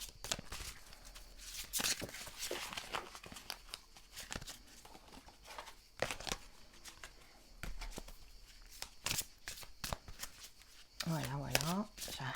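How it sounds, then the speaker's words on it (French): Tarot or oracle cards are shuffled by hand in repeated quick riffling bursts and soft slaps, close up, with a voice talking quietly over parts of it. "Je remélange les cartes."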